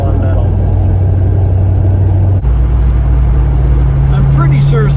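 A Corvette C5 with a worn drive shaft or torque tube grinds metal on metal while driving, a loud low droning rumble with a steady hum that shifts pitch partway through.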